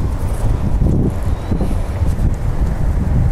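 Steady, loud wind roars and buffets the microphone with no break, a constant low rumble of gusting air, during an extreme windstorm that damaged a house roof.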